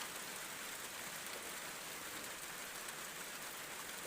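Steady rain falls over a farm garden during the season's first downpour, an even, continuous hiss of drops at moderate distance with no voices.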